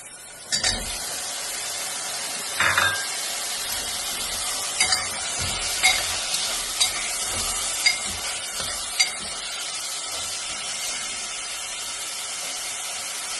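Shallots and tomatoes for a masala beef curry fry loudly in a pan, a continuous sizzle broken by repeated spoon scrapes and stirring clatters. No one speaks.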